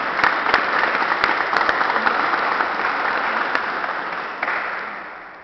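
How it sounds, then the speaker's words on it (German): A ceremony audience applauds at an event marking the Waltrop ship lifts' inscription on the World Heritage list, a dense, even crowd clapping that holds steady for several seconds, then slowly tapers off near the end. "Ich denke, das ist auch nochmal ein Applaus wert für uns."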